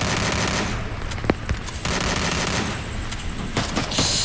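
Rapid gunfire from a multi gun in the game Free Fire MAX, dense bursts of shots over a continuous noisy game background with a few sharper cracks standing out.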